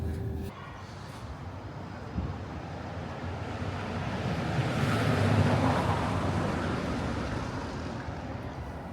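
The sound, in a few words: strong wind blowing on a tower viewing platform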